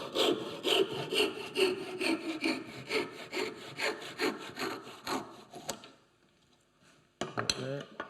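A hand saw cuts off excess wood on a handmade rebate plane, about a dozen rhythmic rasping strokes up close, then a pause and a brief final rasp.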